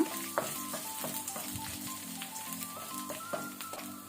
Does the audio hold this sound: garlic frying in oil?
yes